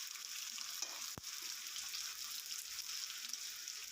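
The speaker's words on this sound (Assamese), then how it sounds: "পিঁয়াজটো ৰং হোৱালৈকে ভাজি লওঁ" Onion frying in a pan for a simple chicken curry, heard as a quiet, even sizzle with one sharp click near the start, and no one speaking.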